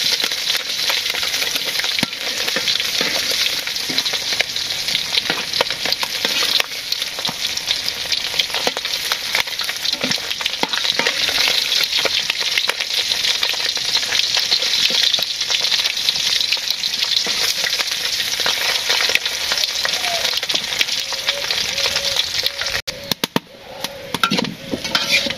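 Potatoes frying in a pan give a steady, loud sizzle with crackles and pops throughout, in a village kitchen. The sizzle dips briefly near the end, and there is no talk.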